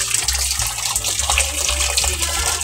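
Tap water gushes steadily into a 10 kg washing machine drum, a loud, close, continuous rushing flow with no one talking.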